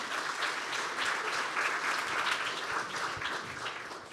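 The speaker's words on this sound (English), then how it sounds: "Give him a warm round of applause." A warm round of audience applause welcoming a Pfizer speaker to the stage at a live Boston event, a full, continuous roar of clapping hands that stays level and fades a little at the end.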